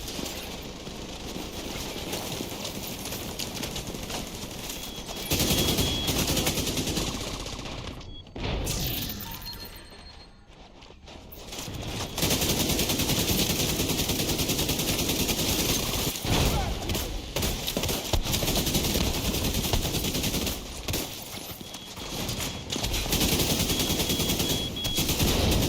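Gunfire in The Division 2 rattles in dense, loud automatic bursts with sharp cracks and impacts, broken by a short quieter lull before the heavy shooting resumes.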